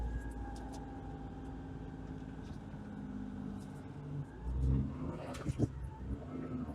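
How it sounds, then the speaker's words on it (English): A kei van pulls away from a full stop at the top of a grade and accelerates uphill in traffic. Its small engine gives a fairly quiet, steady drone that swells and rises toward the end, with no talk. "we're going to start from a full stop right here at the top of this grade. And I'm going to see how it accelerates uphill"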